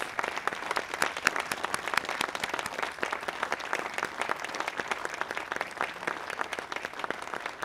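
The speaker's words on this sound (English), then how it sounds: "Let's give them a round of applause." Audience at the 2015 Lawndale Memorial Day ceremony applauds veterans and service members with a steady, even spread of clapping from many hands that is fairly soft and distant and continues throughout.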